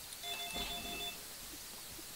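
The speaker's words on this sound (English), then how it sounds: "You are getting a phone call." A phone rings inside the Minecraft game, a short electronic ringing tone heard once at moderate volume before fading into quiet background.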